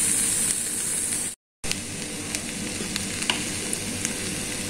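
Corn roasting in a pan with sauce, a constant loud sizzle with occasional spatula scrapes and light clicks, broken once by a brief gap of silence.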